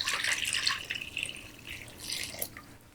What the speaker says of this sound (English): Okay, so now I'm going to pour this into one of my bowls.